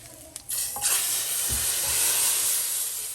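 A loud, steady sizzle of garam masala tadka spices hitting hot oil for mutton daal, beginning with a sudden burst and continuing as a bright crackling hiss.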